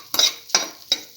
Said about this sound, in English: Saute and mix thoroughly.